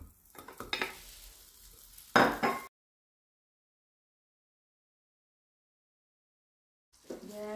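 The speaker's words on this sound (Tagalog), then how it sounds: "First, we will melt the butter." Butter melting and sizzling in a pan for buttered shrimp: soft crackling with kitchen clatter and a sharp burst for about two and a half seconds, then silence, and the sizzle returns faintly at the very end.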